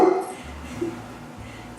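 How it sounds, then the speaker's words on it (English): A dog gives a short bark and a whimpering yip indoors, apparently reacting to someone outside, close and brief within a quiet room. "he might start growling and barking"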